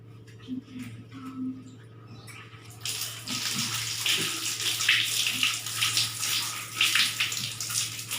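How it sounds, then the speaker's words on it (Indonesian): A tap runs as hands are washed with soap before an injection demonstration, with a steady loud splashing hiss that starts after a few quiet seconds and continues, faint voices underneath at the start. "Pertama-tama cuci tangan"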